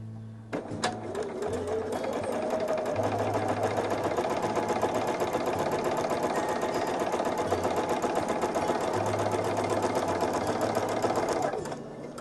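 A sewing machine stitches quilt half-square triangles along a quarter-inch presser foot, with a steady, close mechanical whir and rapid needle clatter running unbroken for about eleven seconds before stopping.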